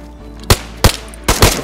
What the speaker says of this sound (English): Oh, gunshots.